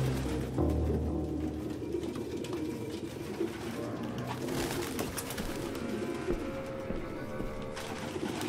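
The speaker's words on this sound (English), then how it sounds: "No human could live with all these fucking pigeons." Pigeons coo softly amid a dim indoor room ambience in Detroit: Become Human, low burbling calls repeating faintly at moderate distance.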